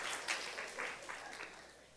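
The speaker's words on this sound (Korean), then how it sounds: "박수 한번 쳐주겠습니다." A church congregation at a young adults' Sunday service in Incheon claps together in a moderately close burst of applause that runs for a couple of seconds and gradually fades.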